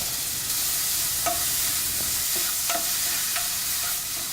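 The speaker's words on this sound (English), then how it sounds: "In the same pan, add the grated carrots and saute." Grated carrots sauté in a pan for carrot payasam, giving a steady close sizzle with several short scrapes and stirs of a utensil, and no talking.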